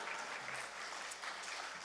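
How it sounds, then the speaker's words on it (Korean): A church congregation applauds as the pastor comes forward during a service, dense sustained clapping throughout, fairly quiet and steady with no clear pauses. "우리 목사님 나오실 때 할렐루야로 하나님께 영광의 박수 올려드립니다"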